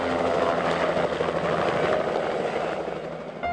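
Helicopter flying overhead during a pronghorn antelope capture operation, a steady, loud rotor and engine drone that holds throughout.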